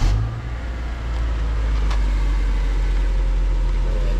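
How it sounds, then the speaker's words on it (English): A 2011 Subaru Outback engine runs at a steady, close idle with a low, even rumble for the whole stretch, and no one speaks. "can you just go ahead, just start the car for me again?"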